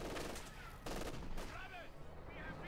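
Rapid machine gun fire from an MG-42 crackles in Company of Heroes 2 gameplay, mixed with other battle noise and faint chatter, fairly quiet overall.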